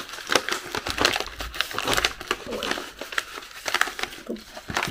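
A crinkly plastic package bag from a Don't Touch My Skin cosmetics order is handled and opened up close. It gives bursts of loud rustling and crackling crinkles in an irregular rhythm throughout.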